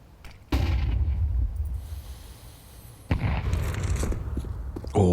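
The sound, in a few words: grenade explosion in the video game Counter-Strike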